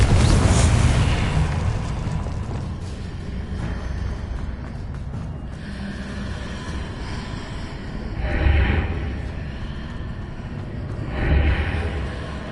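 Confringo explosion spell cast in Hogwarts Legacy on hard difficulty: a steady rumbling battle bed with two heavy, swelling booms a few seconds apart near the end, loud and close.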